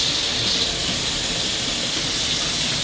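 Steam hisses from a pressure cooker holding braised pork ribs as it is cooled so the lid can be opened. The hiss is loud, close and unbroken, with no voices.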